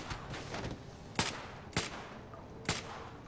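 Gunshots in a GTA 5 zombie apocalypse mod: three sharp, separated reports cracking out over a steady rumbling game background, evenly spaced and fairly close.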